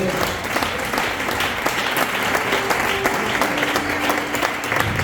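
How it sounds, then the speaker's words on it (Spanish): A church congregation claps steadily in praise, dense applause filling the room from start to finish with a faint tonal hum running beneath the crowd. "Pues ese aplauso para Dios no se lo más fuerte."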